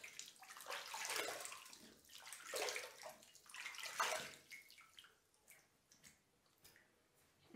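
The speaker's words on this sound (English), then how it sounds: "And then after that, I'm gonna wash my face." Tap water runs and splashes in a bathroom sink during a morning face wash, a faint, uneven rush that swells and fades as hands scoop and splash, with small drips near the end.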